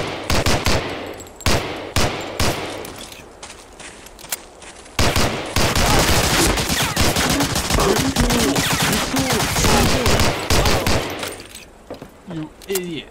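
Bursts of rapid gunfire from the World War II shooter Medal of Honor: Allied Assault, loud and close, with rattling automatic volleys repeating through a dense battle mix and someone talking over parts of it.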